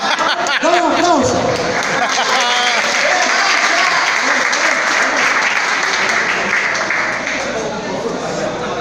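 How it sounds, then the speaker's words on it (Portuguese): An audience breaks into loud, sustained applause at a motivational talk. The clapping is close and dense, with a voice briefly heard over it at the start. "Dá um aplauso."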